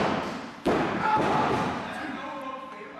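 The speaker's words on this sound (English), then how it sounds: "Now sizing up Fury before dropping the bomb on him" A heavy thud as a wrestler of about 250 pounds is driven down onto the ring mat at an independent wrestling show, one loud impact followed by reverberant crowd noise and commentary over it.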